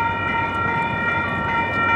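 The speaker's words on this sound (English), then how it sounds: "we got a train coming" A train rolls through the Franklin St railroad crossing, its broad, loud rumble filling the air beneath the steady ringing of the electronic crossing bell, with no one talking.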